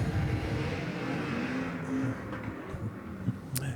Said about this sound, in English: heat 3, 5 cars getting ready to go 8 laps.